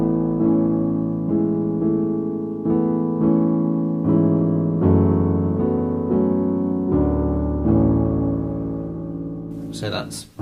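Piano plays a passage from a song in an easy arrangement: sustained chords with a melody on top, moving steadily at moderate volume, close and unaccompanied, ending on a brief noisy click.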